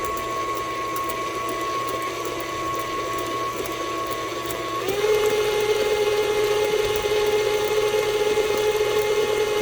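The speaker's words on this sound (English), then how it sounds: "So there's 2 eggs in there. We're going to mix them in. Make sure they get mixed really well." Electric hand mixer beating two eggs into cookie dough for healthy oatmeal chocolate pecan cookies, a steady close motor whine with a sustained tone that drops in pitch midway as the load shifts, running alone without talk.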